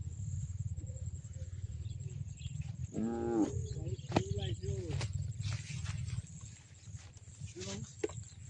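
Cattle moo a few times at a rural forest edge near evening, clear but not very close, over a steady low background rumble with a brief human voice.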